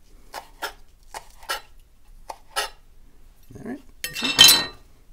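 A knife cuts fresh basil into julienne strips on a board, a series of short crisp chops spaced out in a steady rhythm, followed by a louder burst of rustling as the leaves are handled.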